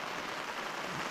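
Rain falls on a tent in a dense, even patter, a soft steady hiss close overhead with no voices.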